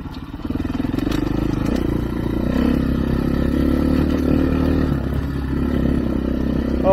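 A motorcycle engine runs steadily in second gear on a California ride, a continuous loud rumbling drone with some rattling clatter, heard close and alone.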